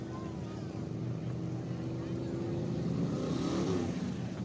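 Sprint car engines idle and rumble steadily as the field rolls out for a heat race at a dirt track, a dense continuous drone building slightly louder toward the end, with faint voices underneath.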